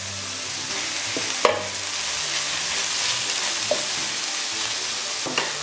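Shrimp frying in a frying pan with chili bean paste over medium heat, giving a loud, continuous sizzle with a few sharp utensil knocks.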